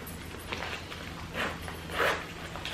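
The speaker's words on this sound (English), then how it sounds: "this zipper is a little bit" Someone tugs at the sticky zipper of a brown bag, producing a few short rasping bursts close by amid quiet handling noise.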